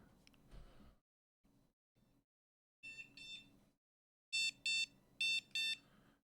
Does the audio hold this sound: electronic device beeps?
yes